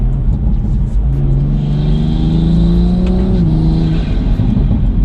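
A Toyota Supra in sport mode revs steadily, its engine note climbing and holding in a loud, close, droning growl before dropping back, with no talk over it.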